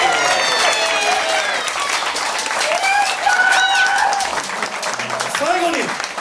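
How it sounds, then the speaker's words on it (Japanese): A crowd at a Tochigi music session event applauds for cable TV station CC9, dense steady clapping filling the stretch with a few cheering voices rising over it. "栃木のケーブルテレビ CC9 さんに盛大な拍手。"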